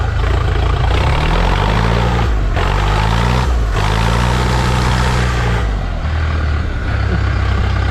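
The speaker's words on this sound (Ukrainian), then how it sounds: "І робота двигуна." A Scout TE-504 tractor engine runs steadily and loudly for the whole stretch, a deep low rumble with its pitch shifting a few times as the revs change, and no one talks over it.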